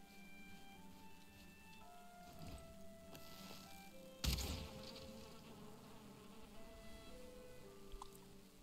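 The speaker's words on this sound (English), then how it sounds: "More bees." Bees buzzing in the video game Valheim: a soft insect drone with wavering tones over game ambience, a sudden thump midway and faint clicks afterward, fairly quiet, no voices.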